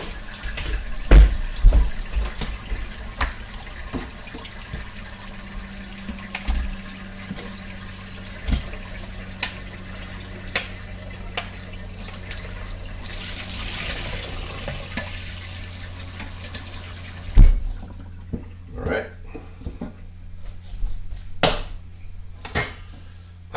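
Water runs steadily from a kitchen tap for about seventeen seconds, a broad hiss with small clunks and splashes, before it cuts off and leaves quieter scattered kitchen knocks.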